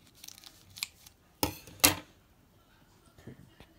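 Scissors snip and crinkle through the plastic packaging of a mochi rice cake: a few soft rustles, then two sharp, close cuts in quick succession, followed by light quiet handling.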